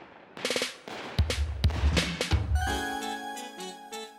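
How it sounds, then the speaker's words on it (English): Fireworks in a Pokemon video game burst in a quick series of sharp crackling pops, followed by a bright synthesized chime; game audio, fairly clear with no voices. "Then some fireworks or something happened, I'm not sure why though."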